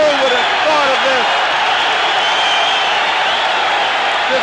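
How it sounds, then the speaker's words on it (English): A boxing arena crowd rises to its feet in tribute during the 15th round of Sugar Ray Leonard vs. Roberto Duran in Montreal, a loud, steady roar of cheering and applause under a commentator's voice. "This crowd is on their feet in tribute."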